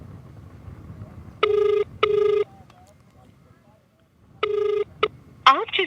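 An outgoing telephone call rings back with loud, sharp electronic ring bursts in a double pattern, a pause, then another burst, over faint background noise.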